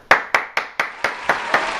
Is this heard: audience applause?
yes